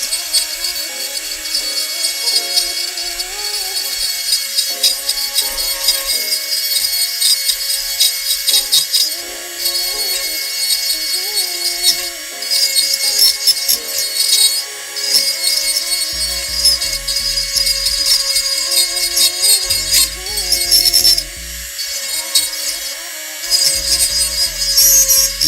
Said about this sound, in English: to get in there with sandpaper to smooth it down